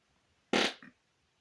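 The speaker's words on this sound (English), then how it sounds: "was a brilliantly done fart" A loud, abrupt fart from a scene in the 1997 film Jackie Brown, a single blurting burst followed by a shorter, quieter sputter, alone against near silence.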